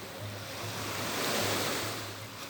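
Sea waves and wind roll steadily along the west corniche, a continuous broad surf wash with a gentle swell in the middle and a low wind rumble beneath, no voices.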